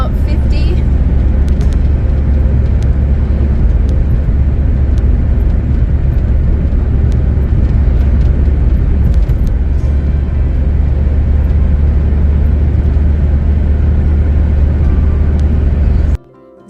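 Car driving at about fifty miles per hour on an English road, a loud steady interior rumble of engine and tyre noise that cuts off abruptly at the end.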